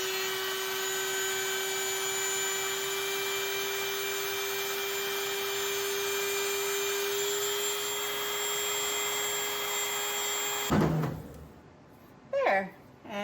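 A Dremel rotary tool bit grinds bubbled glaze off fired pottery, giving a steady high whine that runs unbroken for about ten seconds and then cuts off, leaving quiet room sound with a couple of brief knocks.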